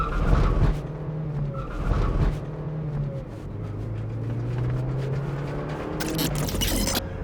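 A 2007 Mazda MX-5 (NC) on a race track, cornering at about 150 km/h on over-inflated tires, with a loud steady engine drone and tire squeal as grip slips, rising into a harsh broadband screech near the end.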